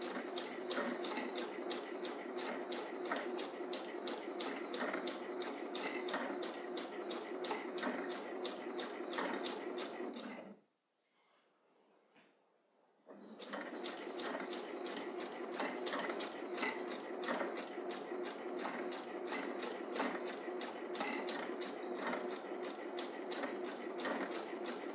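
A sewing machine hems a T-shirt with a twin needle, running in a fast, even mechanical rattle, stopping for about two seconds, then resuming at the same steady pace.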